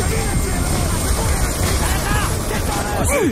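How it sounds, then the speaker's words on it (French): A military drone taking off in the video game Call of Duty: Black Ops 2, a loud, steady whirring engine roar mixed with dense battle noise and rising whines, continuous throughout. "Droit devant, le drone décolle!"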